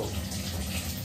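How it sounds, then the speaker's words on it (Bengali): Hot water running steadily from a tap, a dense even gushing splash close up, continuous and without pause for the whole moment. "গরম জল পড়বো"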